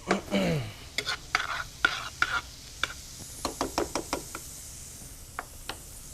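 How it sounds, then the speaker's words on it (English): Minced garlic sautéing in butter in a pan with a soft sizzle, broken by a series of sharp knocks and scrapes from stirring, close up and without talk. "put it in the pan with the butter. And we're going to just saute that up a little bit"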